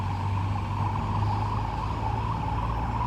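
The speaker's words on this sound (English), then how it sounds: "there are some big trucks driving back and forth with, pavement and dump trucks and that sort of thing" Steady rumble of big construction and dump trucks driving back and forth on a road under repair, a continuous low drone with a mid-pitched engine whine, moderately loud and unbroken throughout, with no speech over it.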